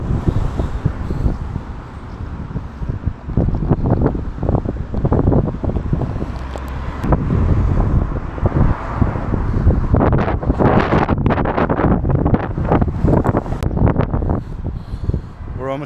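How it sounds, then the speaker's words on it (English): Steady wind buffeting the microphone on a hilltop near Aleksotas Observation Deck in Kaunas, Lithuania, a constant rushing roar with gusty surges throughout. "it's a bit windy up here."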